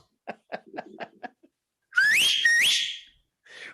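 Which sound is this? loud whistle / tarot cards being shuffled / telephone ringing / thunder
loud whistle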